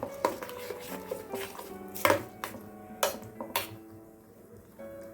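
A spoon clinks and scrapes against a bowl as a spicy tomato and ripe red chilli chutney is mixed with its tempering. The uneven metallic knocks are fairly close, with quieter gaps between them.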